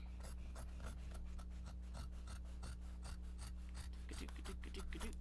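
Scissors or a cutter working through canvas for a bag, a steady run of repeated rasping cuts close by with a constant low hum underneath, and no talk.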